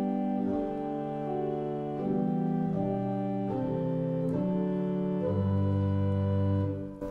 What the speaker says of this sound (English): It's called a Gemshorn, which is kind of a flute string hybrid.